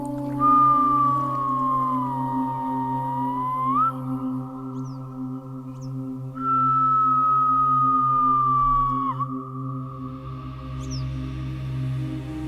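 Two long human whistles, each a sustained tone that slides and ends with an upward flick, ring out over a steady low hum and fade with echo in a quiet evening forest; the whistling style is a traditional way of calling between villages.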